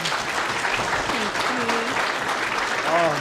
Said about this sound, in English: So we can have another round of applause, please.